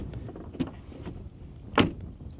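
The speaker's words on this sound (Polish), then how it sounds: "Już dźwięk otwierania i zamykania drzwi." A 2010 Audi Q7 3.0 TDI SUV door clicks open with a soft latch sound, then shuts with a muffled thud a second later, close by.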